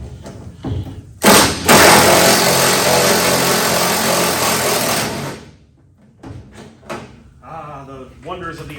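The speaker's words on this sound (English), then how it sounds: "Ah, the wonders of the impact wrench." A loud impact wrench fires in one sustained burst of about four seconds close by, bracketed by short clunks and metal handling noises, with a voice talking in the quieter stretches.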